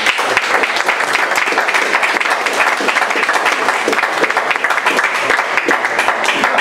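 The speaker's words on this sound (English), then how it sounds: "So how about a big round of applause, please?" Loud, dense applause fills a room at a school board meeting, an audience clapping steadily without a break for the whole stretch.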